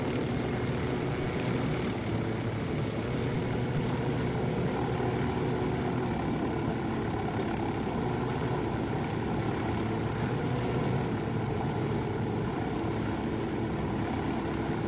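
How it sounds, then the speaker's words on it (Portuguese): Helicopters in Ghost Recon Wildlands, a constant droning rotor and engine rumble throughout, steady and moderately loud with no clear change in distance. "Os helicópteros é que me lixam."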